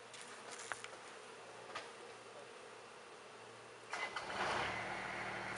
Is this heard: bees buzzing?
yes